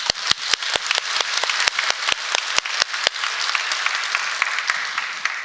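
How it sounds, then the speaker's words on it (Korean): Church congregation applause, with a few sharp, distinct claps standing out at first over a thickening wash of clapping that continues steadily to the end. "하나님께 영광의 박수를 한번 하겠습니다"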